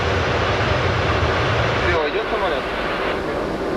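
Aeroflot airliner in flight, beginning a slow bank: a loud, steady engine and airframe roar fills the whole clip, shifting slightly in tone about halfway through.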